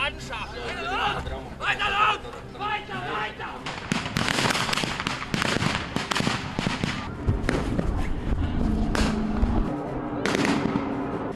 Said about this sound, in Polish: Były strzały, wybuchy i rozbicie samolotu.